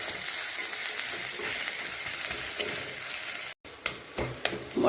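Spice masala of salt, red chili powder and coriander-cumin powder sizzles steadily as it is fried and stirred in a pan, a constant close crackle with a brief gap near the end followed by a few spatula scrapes.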